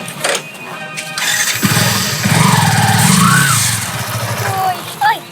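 A cartoon motorcycle engine cranks and starts, then runs as a loud, steady, low rumble for about two seconds before fading, with voices and tonal sound effects over it.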